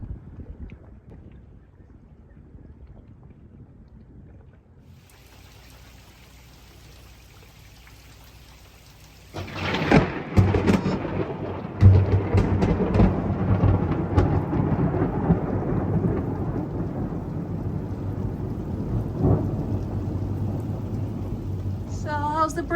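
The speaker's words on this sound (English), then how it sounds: "I'm so sorry it's a rainy day." Rain and thunder at Roche Harbor, Washington, on the Fourth of July: steady rainfall at first, then a loud, close thunderclap crashes in and leaves a heavier downpour with rumbling that lingers to the end.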